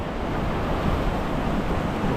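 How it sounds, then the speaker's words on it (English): Big ocean waves wash up on a rocky Azores shore at Terceira, a steady, loud, broadband rush of surf mixed with wind buffeting the microphone, continuous with no voices. "the waves today are big enough that they're gonna wash up on you"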